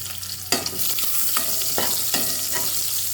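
Garlic and onion sauté in a pan for chicken sotanghon soup with a loud, continuous sizzle. A spatula scrapes and stirs in several distinct strokes, and no one speaks.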